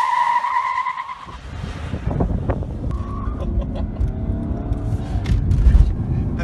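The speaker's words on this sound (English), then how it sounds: "I bet you never expected a Mercedes diesel to break the tires loose" A Mercedes W211 sedan with an inline-six turbo diesel revs and its tires squeal and skid on pavement, the screech rising over a rough engine roar, fairly close and loud.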